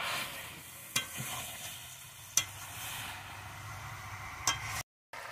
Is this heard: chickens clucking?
no